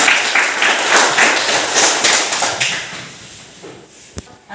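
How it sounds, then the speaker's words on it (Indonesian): A classroom of students applauds during a Christian religious education lesson, a loud burst of many hands clapping together that gradually thins and fades over a few seconds. "Silakan tepuk tangan teman-teman."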